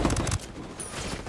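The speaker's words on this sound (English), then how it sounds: "I shot him about 400 times here." Gunfire in the video game Ghost Recon Wildlands, a rapid loud burst of shots up front that cuts off abruptly, leaving softer background noise afterward.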